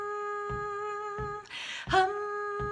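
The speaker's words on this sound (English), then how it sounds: "you're both going to hold your day note to a hum" A soprano holds a steady hummed note in a choral rehearsal, quiet and sustained over soft rhythmic taps, with a brief breathy break midway before the hum resumes.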